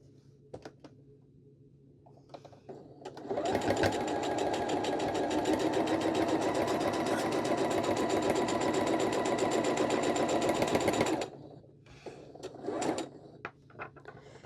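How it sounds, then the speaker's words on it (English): A sewing machine stitches quilt block pieces together, a steady close mechanical whir running for about eight seconds, with softer fabric handling and small clicks before and after. "And then we're sewing our middle piece."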